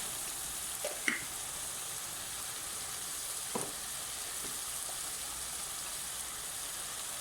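Whole cumin seeds sizzle softly in hot oil for a potato and green bean dish, a faint, even hiss with a couple of light clinks near the start.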